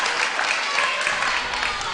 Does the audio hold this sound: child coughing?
no